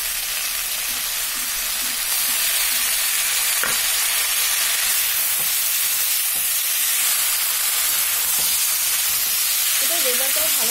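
Onion, garlic, green chilli and tomato paste sizzles and fries in a pan with fried vegetables, a steady broadband hiss with occasional stirring scrapes, loud and close throughout.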